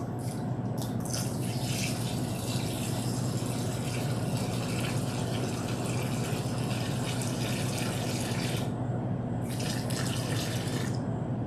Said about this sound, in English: Just pouring water.